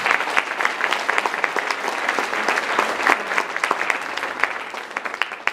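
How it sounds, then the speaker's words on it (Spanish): A church congregation claps steadily for several seconds, dense and continuous hand-clapping filling a reverberant room with no talk over it. "Dele palmas al Señor."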